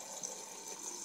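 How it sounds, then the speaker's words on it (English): Water pouring from the drinks dispenser of a Samsung Showcase fridge freezer, a steady, soft hiss of flowing liquid that holds evenly for about a second. "So the drinks dispenser, as you can see, to get water you simply push on here"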